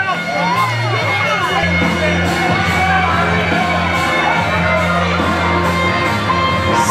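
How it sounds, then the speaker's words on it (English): A wrestling-event crowd in Staten Island cheers and shouts loudly and continuously, voices and whoops layered into a dense, steady roar with rhythmic chant-like swells throughout. "The crowd saying a double champ."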